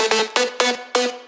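Bass house synth lead with effects in FL Studio, four punchy stabbed chords in a quick even rhythm, each with a bright filtered tail, loud and alone.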